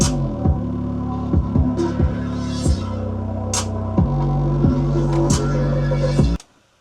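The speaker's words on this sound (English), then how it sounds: "the first thing I did was put in the 808 and the clap" An 808 bass and a clap play together in a hip-hop drum loop, with deep booming bass notes at an uneven rhythm under sharp, bright claps. The loop runs loud and alone, then cuts off abruptly.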